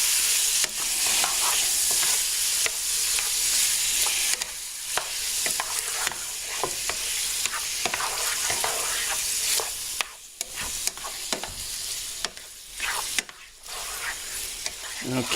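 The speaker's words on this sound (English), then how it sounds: "Now you stir it around, make sure the seasonings get mixed around here really good." A seasoned stew with garlic being stirred in a sizzling pot, a constant frying hiss with repeated scraping and clinking of the spoon against the pot, no talking.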